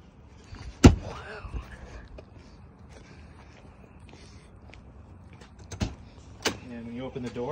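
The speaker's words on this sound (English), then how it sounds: "Open the door." An RV door unlatches with a sharp click, then a couple of clunks and knocks follow in a quiet space, with a voice briefly heard.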